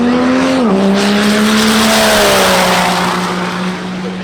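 A Cummins diesel drag truck screams down the strip on a quarter-mile pass, a loud sustained engine roar that drops briefly at a gear change, then holds steady and slowly fades as it pulls away.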